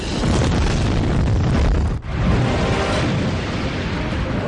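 A deep, roaring explosion effect stands in for immense solar eruptions in space. It is loud and dense throughout, broken by one brief dip midway before the rumble surges back.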